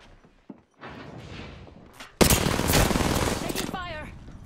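Automatic weapons in Apex Legends open up in a loud, dense burst of rapid gunfire halfway through, after a quieter stretch of footsteps and movement, with a brief voice near the end.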